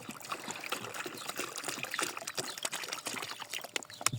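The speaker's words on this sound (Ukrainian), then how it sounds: "Я вам водички лию." Water poured from a container into a bowl for dogs in freezing weather, a faint continuous splashing trickle lasting several seconds with no talk over it.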